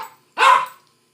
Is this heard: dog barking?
yes